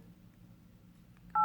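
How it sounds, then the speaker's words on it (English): LG G4 smartphone dialer keypad gives a single short electronic touch-tone near the very end, loud and clear after quiet room hum, with no talking. "See the dialer."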